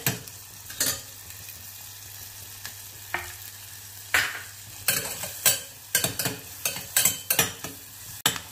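Onions fry in butter and oil for pav bhaji, with a soft steady sizzle and frequent sharp scraping taps of a spoon against the pan that grow busier toward the end.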